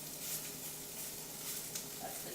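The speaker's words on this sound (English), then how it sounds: "Hey, you guys hear that sizzle?" Chorizo sizzling in a pan while cooking lunch for a clam and mussel broth, a steady bright crackling hiss with faint stirring, close and continuous.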